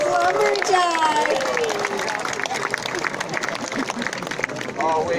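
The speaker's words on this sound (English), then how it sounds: "Let's have a big round of applause for the littlest lumberjack." An audience at a lumberjack show claps steadily for a young volunteer, a dense, continuous patter of many hands heard under a voice speaking over it.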